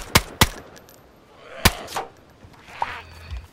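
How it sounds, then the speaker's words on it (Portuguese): Gunshots in the video game DayZ ring out as a few sharp, loud cracks spaced irregularly over a few seconds, followed by fainter distant pops and rustling in between. "que tiro foi esse?"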